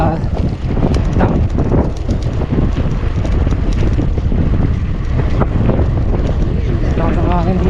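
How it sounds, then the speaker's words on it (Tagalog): Steady roar of strong wind buffeting the microphone at Punggol dam, Singapore, loud and continuous throughout, with a voice briefly speaking under the gusts. "Lakas ang hangin dito"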